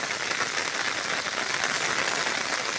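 Typhoon Bibinca drives a heavy downpour over Burias Island, a loud, unbroken wash of rain hissing evenly and close by with no other sounds.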